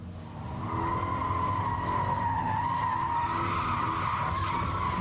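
A car braking hard and skidding inside a tunnel gives a sustained tire squeal over low engine rumble, loud and steady for about five seconds with no talk.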